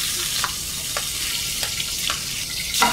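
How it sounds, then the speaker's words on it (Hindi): Spices sizzling and crackling in hot oil for an Indian tadka, a continuous loud fry with a few brief stirring clinks, close and without speech. "तड़का लगाने के लिए ऑयल तो जरा गर्म करना ही पड़ता है ना"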